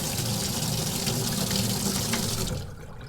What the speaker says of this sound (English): We're just going to let the water run for a couple seconds.